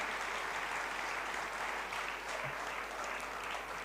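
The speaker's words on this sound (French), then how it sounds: "On peut en effet l'applaudir." A political rally audience gives dense, even applause, a continuous hiss of many hands clapping at a moderate distance with no pauses.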